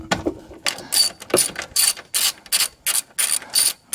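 A ratchet wrench with a 12 mm socket loosens engine bolts on a 2020 Subaru STI, a close series of about nine quick rasping clicking bursts in an even rhythm, with no talk.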